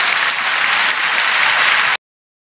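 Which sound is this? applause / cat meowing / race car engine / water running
applause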